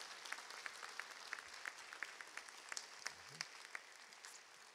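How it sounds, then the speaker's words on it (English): A large audience at a Gadsden State Community College honors day ceremony applauds JSU transfer scholarship recipients, a steady wash of many hands clapping together, moderately distant and fairly soft, with a few sharper claps standing out. "Let's give all these JSU transfer scholarships a round of applause."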